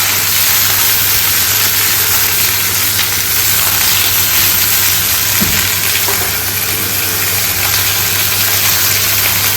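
Vegetables such as eggplant, cauliflower, potatoes and ridge gourd fry in a pan, giving off a loud, continuous, even sizzle that fills the whole stretch with no break and no talking.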